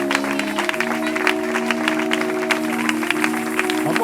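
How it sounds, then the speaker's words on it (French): An audience claps steadily at a prophetic church gathering, a dense wash of applause under sustained musical tones, with crowd voices mixed in throughout. "On acclame"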